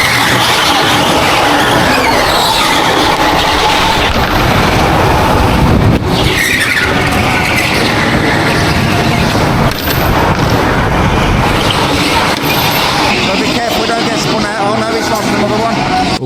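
Race cars in a racing video game roar and squeal their tyres through a hairpin with a light bump between them, loud engine noise throughout under an excited commentator's voice.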